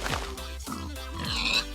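Minecraft pigs grunt and oink over and over in a close, continuous stream, with a few higher squeals toward the end.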